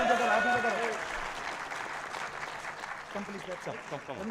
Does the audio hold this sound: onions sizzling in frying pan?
no